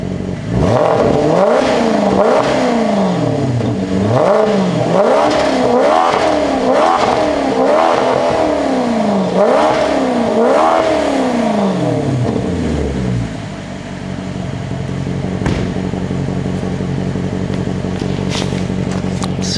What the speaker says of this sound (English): So I'm gonna go in the car and push the accelerator.